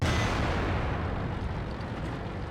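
Artillery fire landing in World of Tanks: one heavy, dense explosive blast rolling on as a sustained loud rumble with no speech.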